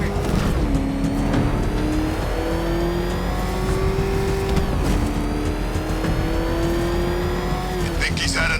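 A car in Batman Arkham Knight roars along at speed, its engine revving up through rising gear changes, with tire noise and voices talking over the driving.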